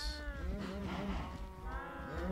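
Cows mooing in the Minecraft game with the MineFactory Reloaded mod, several overlapping drawn-out moos and bellows in quick succession, clear and close with no pauses.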